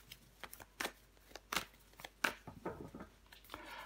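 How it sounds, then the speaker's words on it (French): Tarot cards are laid out and handled on a table, giving soft, scattered slaps and shuffling rustles at irregular intervals, quiet and close with no voices. "Je vais recouvrir des cartes."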